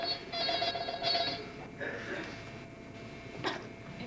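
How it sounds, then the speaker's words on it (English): A telephone rings twice in quick bursts as a stage sound effect during a high school senior play, heard faintly in a hall before the ringing stops and the room goes quiet. "It may just be Alec ringing from downstairs."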